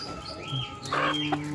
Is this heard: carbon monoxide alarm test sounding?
no